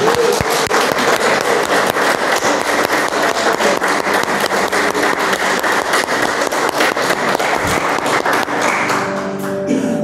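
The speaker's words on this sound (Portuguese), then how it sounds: "Pode aplaudir isso." Church congregation bursting into sustained applause, dense clapping from many hands filling the room for about ten seconds, with a few cheers and a faint tonal sound near the end.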